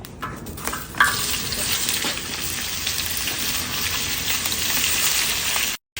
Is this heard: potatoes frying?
yes